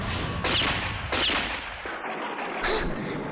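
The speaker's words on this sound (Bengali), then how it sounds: "এ তো গুলির শব্দ।" Gunfire in the Bengali children's superhero show Magic Bhootu, three sharp cracks spaced about a second apart, loud and close over a steady background, with no voices.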